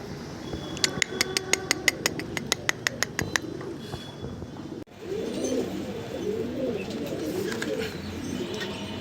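A string of quick, sharp ticking clicks comes first, then a yellow Flagie Hezar pigeon coos close by in soft, repeated rolling phrases.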